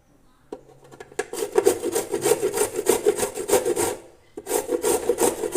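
Indian gooseberries (amla) rubbed against a beetroot-style hand grater for gulkand, a dense run of rapid rasping strokes that pauses briefly, then resumes, close and loud with no talking.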